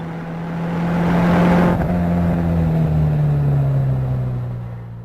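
A Subaru Legacy Wagon at speed on High Plains Raceway, its engine holding a steady droning note that dips slightly as the car brakes toward a corner, loud and continuous throughout with no voices.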